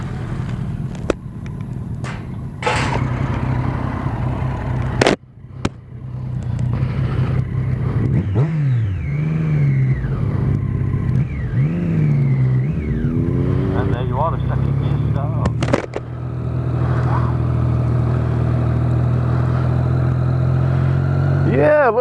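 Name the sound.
motorcycle engine revving, pulling away in second gear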